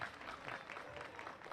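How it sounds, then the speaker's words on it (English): Baseball crowd clapping at a college game between Elon and UNC Wilmington, a brief diffuse patter of distant hands under the stadium ambience. "Everybody clap your hands."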